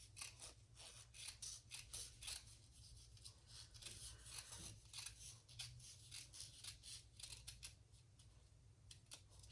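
Scissors snip steadily through fabric while a retro-style sling bag is sewn, cutting close to the zipper teeth; a rapid run of crisp, close cuts and rustling fabric goes on throughout over a low steady hum.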